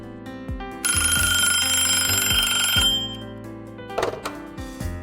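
Phone ringing as a call goes out to a daughter, a bright electronic ring tone that swells loudly for about two seconds over a soft rhythmic background pattern, then cuts off, leaving quieter clicks and tones.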